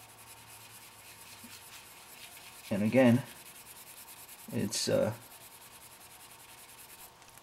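Fine-grit sandpaper rubs over primed styrene in two short, close bursts of scratchy back-and-forth sanding, separated by quiet pauses, with a brief spoken phrase between them.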